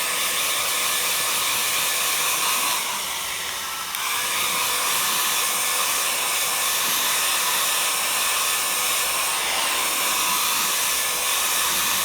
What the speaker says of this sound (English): Just get the hairdryer.